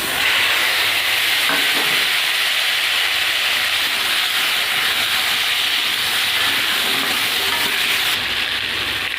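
Potato and pumpkin pieces sizzle loudly and steadily in hot oil with cumin seeds, a continuous dense frying hiss with no voices.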